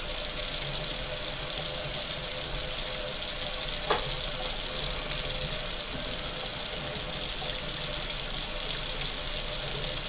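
Soap and water run at a sink in a steady, constant hiss of flowing water while something is scrubbed and washed, with one brief knock partway through and no talking.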